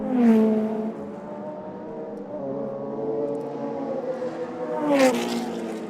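A historic race car approaches and passes on a circuit during a festival race, its engine note sweeping loudly through the pass, holding a steady drone, then surging again as a second car roars by near the end.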